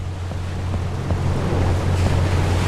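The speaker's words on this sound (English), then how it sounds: "2 or 3 meter rolling waves." In the game Seafarer, an LNG carrier rides rolling seas of two to three metres, giving a continuous rushing wash of water and wind over a steady low hum, swelling slightly toward the end.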